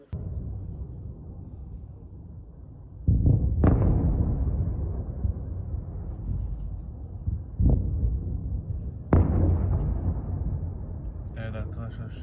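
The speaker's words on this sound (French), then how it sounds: "There are big explosions taking place" Distant blasts from explosions in Kyiv during wartime, a few heavy booming thuds rising out of a steady low rumble over about twelve seconds, with a reporter's voice talking throughout.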